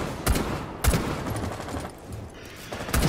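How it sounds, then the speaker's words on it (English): A few sharp gunshots in Rainbow Six Siege, three separate loud cracks spaced about a second apart over a busy game background, with no talk. "I shot him a couple times"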